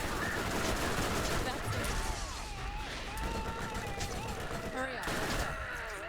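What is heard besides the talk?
cannon weapon firing in Borderlands video game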